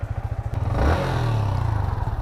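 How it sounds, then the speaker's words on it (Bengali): A Yamaha MT-15 motorcycle engine starts: a brief starter clatter, then the engine catches and settles into a steady, close, loud idle with a low rhythmic throb and no talk. "Let's start the engine."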